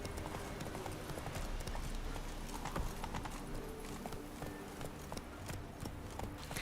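Roach, a horse in the video game Witcher 3, gallops with quick, continuous clip-clop hoofbeats at moderate distance, heard alone over a soft background game ambience.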